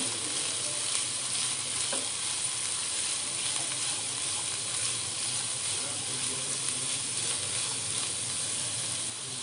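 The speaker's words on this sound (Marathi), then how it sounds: "आता हे सगळं आपल्याला मिक्स करून घ्यायचं आहे" Cabbage, baby corn and chili are stirred in a hot pan while cooking Italian rice, giving a steady, even sizzle with soft scraping that runs without a break, close and fairly loud, with no talking.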